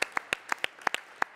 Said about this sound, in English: that was probably an applause